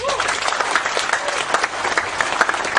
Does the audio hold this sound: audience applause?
yes